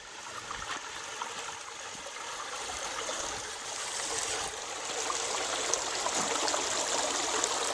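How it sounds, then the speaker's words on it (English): Water from a backyard pond waterfall trickles and splashes over rocks in a steady, close, continuous wash that swells slightly louder toward the end, with no voices. "Look at that waterfall."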